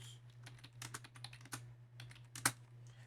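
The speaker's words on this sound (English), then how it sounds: "And I'll go ahead and type in those values." Values keyed in on a TI-Nspire calculator keypad: a quick run of small, close plastic key clicks in irregular bursts, one sharper press near the end, over a low steady electrical hum.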